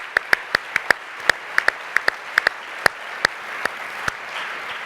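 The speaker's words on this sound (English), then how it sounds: "Let's give them a round of applause." An audience at the Outlook Forum 2020 business event claps, sharp separate hand claps popping out irregularly over a soft room hum, close and fairly sparse rather than a full roar, with no talking.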